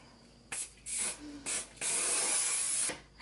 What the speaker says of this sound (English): I'm going to take this Fructis hairspray and I'm going to lightly spray my